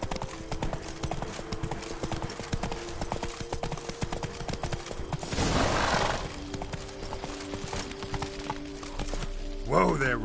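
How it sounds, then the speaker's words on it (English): Horse hooves galloping in The Witcher video game, a steady rapid clip-clop running under game music, with a brief whinny and a voice near the end. "Whoa there, Roach."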